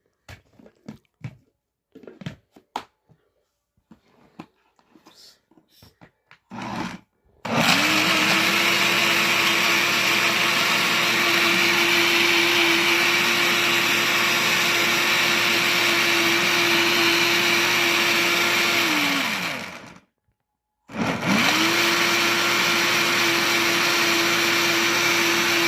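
Electric grinder blending juice, a loud steady motor whine running about twelve seconds, winding down to a brief stop, then starting again; faint clicks and handling noises come before it.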